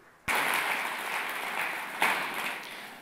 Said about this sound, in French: Alors applaudissons-les.